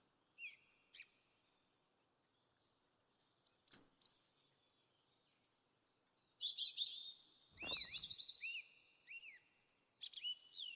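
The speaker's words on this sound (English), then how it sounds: "At least the birds sound pretty." Birds chirp and tweet in scattered short bursts in a ski trip video game, faint and fairly distant, with a brief low thump partway through.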